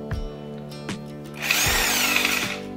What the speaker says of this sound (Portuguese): vou colocar aqui na função que a gente precisa, que é o martelete combinado, que é furando e batendo